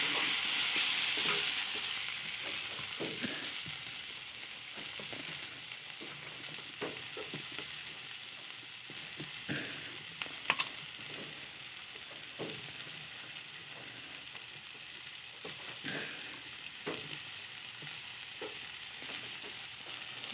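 Chicken curry being stirred in a pan after a pinch of salt goes in, with a steady sizzle and repeated scraping strokes of the spoon, moderately loud and free of talk.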